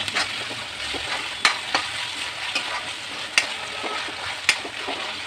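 Carrots stir-frying in a hot pan with ginger-garlic paste for vegetable fried rice, a steady broadband sizzle broken by several sharp spatula scrapes and clicks against the pan, close and alone with no talk.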